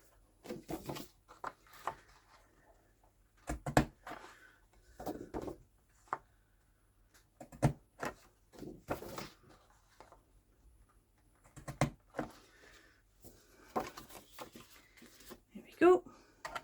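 A corner rounder punch rounds paper corners in a quiet room, giving short sharp clicks and crunches scattered between soft paper rustles and handling, with a voice speaking intermittently.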